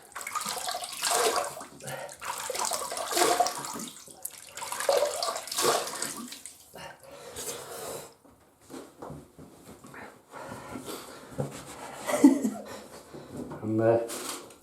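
Tap water runs to wet a shaving brush in a sink, a steady close splashing stream that rises and falls while someone talks over it.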